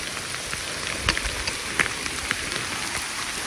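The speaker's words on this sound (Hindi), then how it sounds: "बारिश तो अभी ज्यादा बढ़ गया है" Dense, steady rainfall hisses across a surface at Rayakottai fort near Shoolagiri, with occasional heavier drops and splashes standing out from the constant wash.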